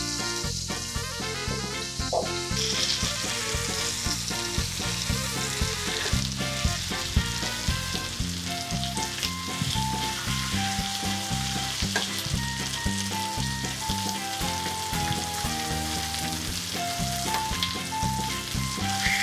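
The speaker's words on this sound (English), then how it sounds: "Seal the meat on each side except for the fatty bit on top." Meat seared in a pan for a German Oktoberfest dinner gives off a loud, steady sizzle that runs the whole time, close up, with light background music and no speech.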